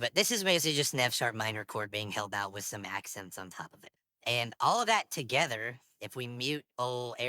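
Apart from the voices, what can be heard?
No distinct noise like a dog, phone or traffic.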